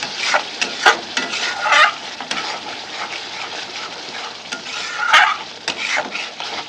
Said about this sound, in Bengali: এবার এটা ভালো করে কষতে দেবো, ঢাকনা বন্ধ করে।